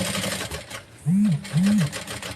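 A sewing machine stitches a seam through fabric with a fast buzzing whir in two short bursts, close and loud, while someone talks throughout.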